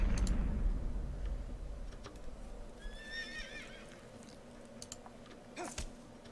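A horse in the Shadow of the Colossus video game whinnies, a clear rising-and-falling neigh mid-clip, with scattered light hoof clops and clicks over a quiet, steady background hum.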